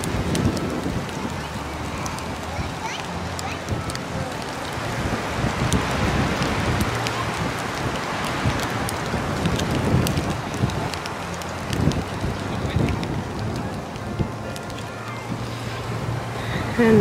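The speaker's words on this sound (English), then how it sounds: "it's super windy right now" Strong wind gusting across a lake at a state park campsite with a grill going, a steady broadband roar with buffeting rushes against the microphone throughout, no talking.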